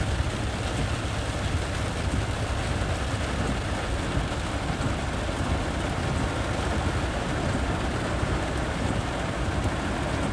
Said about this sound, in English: Very heavy rain falling here.